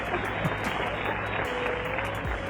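Audience applause during a motivational talk, a dense steady patter of clapping from a crowd, fairly even and moderately loud throughout with no speech.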